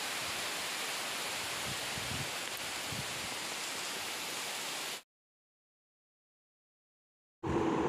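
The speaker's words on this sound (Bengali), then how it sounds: "সাথে সাথে ঝড়ও শুরু হয়ে গেছে" A rain and wind storm in Bangladesh makes a steady, dense hiss of rainfall and gusts, loud and unbroken for about five seconds, then drops to silence before the downpour resumes near the end.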